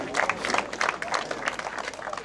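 A crowd applauds pétanque player Henri Lacroix at the Mondial Pétanque in Marseille, with brisk, dense clapping under light crowd noise that continues throughout.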